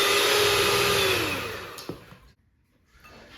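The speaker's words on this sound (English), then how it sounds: "Next we use the hand mixer and we mix all this together." An electric hand mixer whirs steadily as it beats cream cheese, vanilla and powdered sugar for orange creamsicle dessert bars, a loud continuous motor drone that fades out partway and stops, leaving near silence before it briefly restarts.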